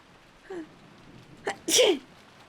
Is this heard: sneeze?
yes